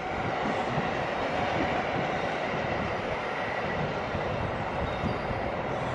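A long train of car carriers rumbles past close by, a loud, continuous broadband roar and rattle of rolling stock that stays even from start to finish with no voices.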